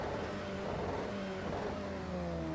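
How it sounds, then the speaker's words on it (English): KTM GT4 race car engine in Project CARS 2 at Fuji, a steady revving drone with pitch shifts as it downshifts under engine braking, heard faintly throughout. "You hear that cackle of that KTM on the downshift."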